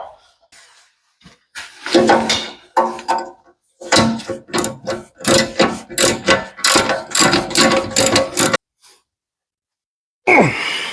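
A ratchet wrench with a socket turns a bolt while fitting the seat and steps on a Ford 7000 tractor: bursts of quick, close metallic clicking in rapid repeated strokes, with short pauses between runs.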